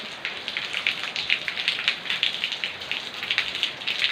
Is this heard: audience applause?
no